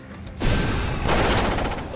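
Gunfire in the video game Madness Estate, a sudden dense burst of loud, crackling shots that swells in and holds with a second surge, filling the whole short moment.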